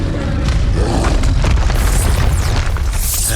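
Expulso blast spell in the PS5 game Hogwarts Legacy, a loud booming explosion with a deep low-end rumble and crackling burst that rolls on for a few seconds.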